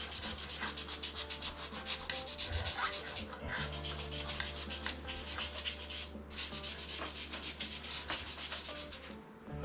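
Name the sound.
sanding Telecaster guitar frets with 2000 grit paper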